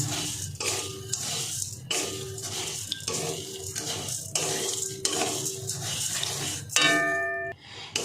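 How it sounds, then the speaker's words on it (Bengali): Sugar melting in a pan for caramel is stirred with repeated scraping and clinking strokes of a utensil against metal in an even rhythm, ending with a ringing clang. "এইভাবে নাড়তে হবে, অনবরত নাড়তে হবে"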